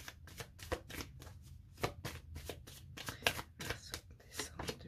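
Tarot cards shuffled by hand in a steady run of crisp riffling bursts, close and fairly loud, with no voices.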